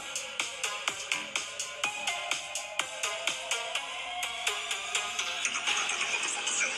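Music plays from a smartphone, a steady rhythmic beat with sharp regular pulses and bright tones running continuously, clear and alone with no talk.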